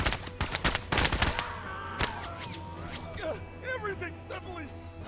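Several sharp video game gunshots crack in quick succession at the start, then a lone shot follows amid whooshing effects and a speaking voice.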